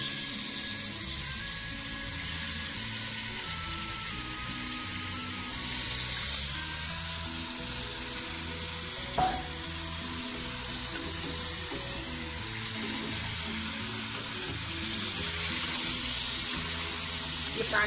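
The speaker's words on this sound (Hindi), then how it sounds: "वो पानी छूटकर ड्राई होने तक इसे अच्छे से फ्राई कीजिए।" A low, steady sizzle of mushrooms frying in a pan runs throughout, with a few faint clinks and small knocks now and then.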